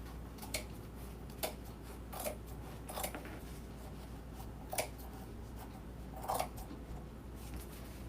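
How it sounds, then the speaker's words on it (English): Scissors snipping while a gingerbread girl wreath attachment is crafted, a scattering of faint, brief clicks and snips spaced out over a low steady hum, no talking. "Yeah, these scissors are going too."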